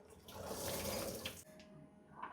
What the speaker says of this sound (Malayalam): അപ്പൊ ഇത് നമുക്ക് വെള്ളം കളയാട്ടോ.